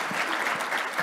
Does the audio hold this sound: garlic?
no